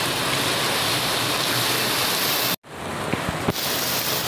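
Heavy rain pours loudly and steadily over the spice market at the APMC in Navi Mumbai, with the broadband wash briefly cut off before it returns, broken by a few sharper knocks.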